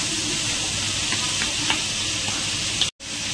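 Tomatoes and spices stir-frying for an okra gravy, giving a steady close sizzle with faint scraping stirs; it cuts out abruptly for a moment near the end.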